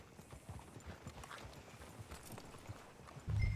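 Horse hooves in Red Dead Redemption 2 clip-clop at a quick, even pace, faint and close, before a low rumbling burst takes over near the end.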